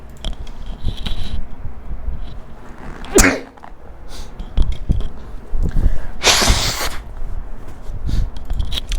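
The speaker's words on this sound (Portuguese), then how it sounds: "Pode usar só o microfone aqui que eu vou espirrar." A single sharp sneeze bursts out in a quiet indoor room, with faint rustling and handling noises around it and no talking.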